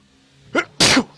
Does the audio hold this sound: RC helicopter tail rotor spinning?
no